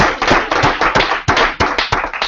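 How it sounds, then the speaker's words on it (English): A small audience at a China-U.S. Symposium panel session claps for the speakers, giving a close burst of distinct, uneven hand claps that carries on steadily without any talking. "Please join me and give them another round of applause."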